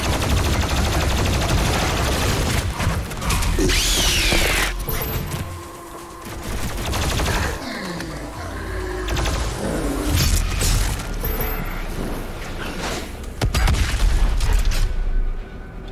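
A cannon fires repeatedly in the first-person shooter Doom Eternal, with loud booming blasts, mechanical clanks and rapid gunfire bursts in dense, continuous combat.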